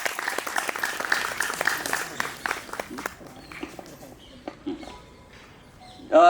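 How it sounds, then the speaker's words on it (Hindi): Loud applause from an audience at a Deepawali celebration gathering, dense clapping filling the first few seconds and then thinning into scattered claps with some voices mixed in. "हाँ, जोरदार तालियों के साथ।"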